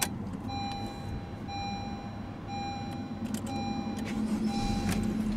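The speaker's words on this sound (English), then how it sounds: "what you're hearing there is your base engine, which is a 2-liter 4-cylinder" A 2017 Honda Civic LX with its 2.0-litre four-cylinder base engine idles in a low, steady hum, heard from inside the cabin, with a faint repeating electronic chime over it.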